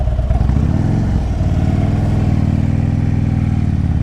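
A 2010 Harley-Davidson Street Glide Ultra pulls away, its loud, close V-twin engine rumbling and throbbing with a pulsing, uneven beat as it revs through the takeoff.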